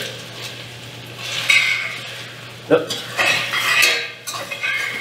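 Sliced mushrooms tipped into a pot of cooking garlic and ginger, with clattering pot and utensil sounds, a sharp knock midway and a bright sizzle over a low steady hum; no one speaks.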